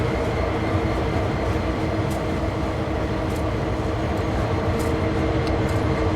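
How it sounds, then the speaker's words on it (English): A steady, continuous rumble of two passing trains hauled by an SD40-2 diesel locomotive, wheels rolling and clattering along the tracks outdoors. Close and constant, with no voices. "Two trains going right."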